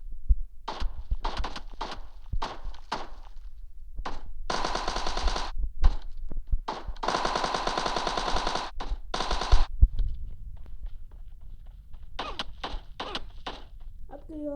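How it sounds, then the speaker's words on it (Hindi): Gunfire in a battle royale video game: rapid bursts of automatic fire and single shots in quick succession, loud and close, with a short lull before more bursts. "कितनी गोली चला रहे हैं लोग"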